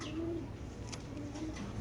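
A BRPFC racer pigeon, one of the birds at a pigeon sale, coos softly and steadily over a continuous background hum, with low murmuring calls repeating through the stretch.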